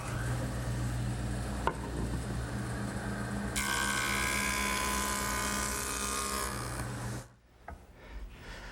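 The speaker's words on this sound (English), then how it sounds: "the joiner will make it perfect" A jointer planes the edge of a wood panel in a woodworking shop, a steady whirring machine hum with a harsher cutting pass in the middle before the machine spins down and falls quiet.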